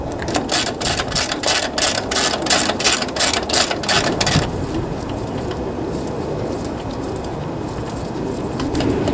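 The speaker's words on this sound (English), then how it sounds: "Let's tighten up these motor mount bolts." A ratchet clicks in a fast, steady series while tightening the motor mount bolts on a Honda lawnmower engine, close and loud, then stops and leaves a continuous background hiss.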